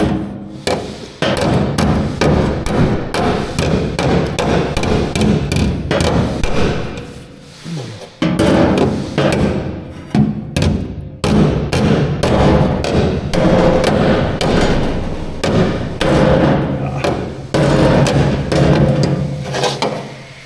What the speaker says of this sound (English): We're going to use our body hammer. Try to raise this back up.